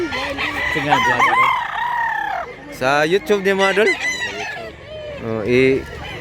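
A rooster crows loudly several times at close range, its harmonic calls interleaved with clucking, while someone talks in the middle of the crowing.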